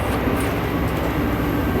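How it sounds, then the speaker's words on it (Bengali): A passenger train pulls out of Sealdah station bound toward Hasimara, a steady broadband rumble and rolling rattle heard from inside the carriage, loud and continuous with no speech. "একদম নির্দিষ্ট সময়ে ট্রেন ছেড়ে দিল আমাদের শিয়ালদহ স্টেশন থেকে।"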